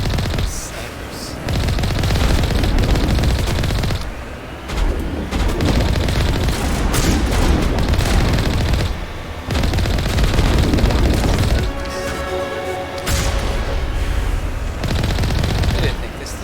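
Gunfire in the Mass Effect video game, repeated bursts of loud rapid shots and booms in several long stretches separated by brief lulls, with a player talking at points.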